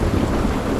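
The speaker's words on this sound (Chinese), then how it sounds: "现场下雨了。" Heavy rain with a low rumble of thunder, a loud dense wash of noise that stays steady and close throughout, no voices.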